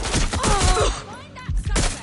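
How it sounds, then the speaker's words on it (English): Short volley of gunfire in the video game Watch Dogs Legion, several loud sharp shots clustered together over busy game sound. "We have gunfire!"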